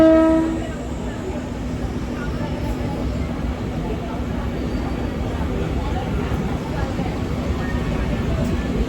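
Mumbai local train running near Mahalaxmi station, a brief horn at the start, then a steady loud rumble and rattle of the moving carriages from inside, with voices talking over it.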